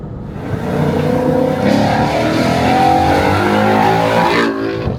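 Ford Mustang 5.0 V8 engine running loud and close, a deep steady roar that rises and holds with revving for several seconds before easing off at the end.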